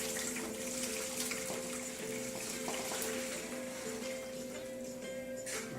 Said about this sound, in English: And we're going to add some hot water.